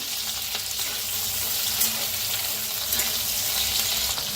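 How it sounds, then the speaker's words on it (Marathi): Whole garlic cloves frying in hot oil in a pan, a steady dense sizzle running loud and close throughout with no pauses, no voices. "लसूण बी छान असं भाजायला लागलाय बघा"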